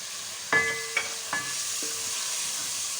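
Tomatoes and ginger fry for keema in a hot pan, a steady close sizzle and hiss with a few sharp spoon clinks against the pan early on.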